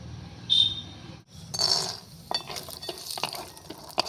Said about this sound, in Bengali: কড়াইতে অল্প একটু তেল দিয়ে বাদামগুলো ভেজে নেবো